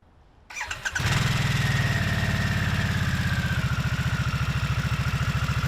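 A 2022 Harley-Davidson Nightster engine cranks briefly, catches with a sharp rise, then settles into a steady, loud, throbbing idle close by.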